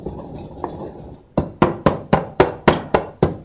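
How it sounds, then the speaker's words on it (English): Fresh spices are pounded in a mortar and pestle, about eight sharp, evenly spaced thuds following a few softer scraping taps, close and clear with no talk. "We're going to put all those beautiful fresh spices into the mortar and pestle."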